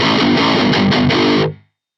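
Heavily distorted electric guitar played through a home-made Big Chunker impulse response on a NUX Solid Studio, a loud, dense chugging riff with a few accented hits that cuts off sharply and rings out briefly.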